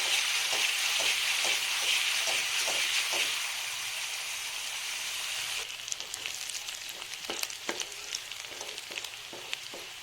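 Onion, garlic, ginger and green chili frying in a pan over a high gas flame, a loud steady sizzle with rhythmic stirring scrapes that settles into quieter crackling and clinks.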